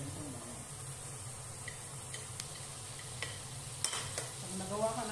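Chopped garlic and onion frying in olive oil in a pan for a tomato sauce, a quiet steady sizzle with a few soft stirring clicks and utensil taps, and a voice briefly heard near the start and end.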